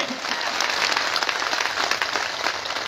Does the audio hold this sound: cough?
no